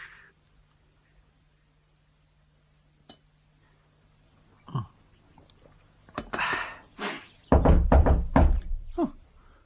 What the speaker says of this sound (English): I don't think it was his knock.